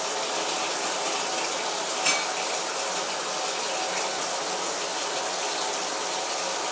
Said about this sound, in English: Then I fill the developing tank with water.